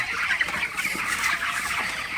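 Broiler chickens on a poultry farm, a dense chorus of overlapping clucks and soft calls from many birds, continuous and close.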